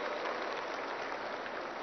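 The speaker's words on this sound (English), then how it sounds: "I think they deserve a big round of applause for this." Applause from an audience at a Telangana government event, a dense, steady wash of many hands clapping together, fairly loud and continuous throughout, with no speech over it.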